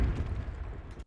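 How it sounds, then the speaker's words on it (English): An explosion sample used as a crash in an electronic music track, a dense booming rumble with a broad noisy wash that sustains for about a second, then cuts off abruptly. "So these are made up of an explosion sound."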